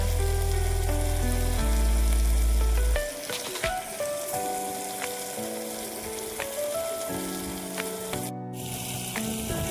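Maggi rice with garlic cooks in a pan on a wood-fired clay stove, giving a steady close sizzle and crackle of frying throughout, under stepping background music.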